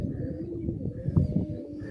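Soft, low coos of Indian Madrasi pigeons roll along continuously, several birds murmuring close together in a quiet setting.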